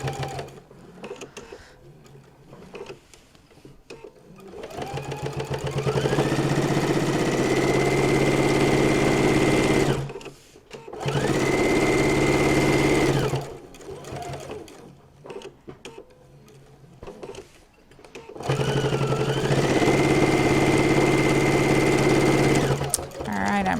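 Sewing machine stitching a fabric notebook holder in steady motor bursts, running for a few seconds at a time with brief pauses between runs, close and fairly loud, with faint talk underneath.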